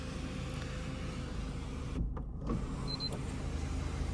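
A car's sunroof motor hums steadily inside the cabin, a low, continuous electric drone with a couple of brief clicks and a short gap partway through, heard close up with no voices.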